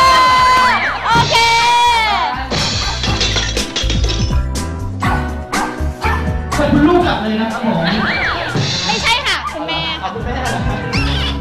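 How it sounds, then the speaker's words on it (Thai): Hunting dog barking repeatedly amid a lively crowd, with children shouting and a constant babble of voices and music layered over the yips and bow-wows. "อ๋อสุนัขล่าเนื้อนะฮะ"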